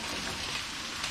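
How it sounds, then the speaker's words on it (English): Fish fries in a pan with onions, giving a steady, even sizzle with a soft crackle that holds throughout and has no talk over it. "the fish frying"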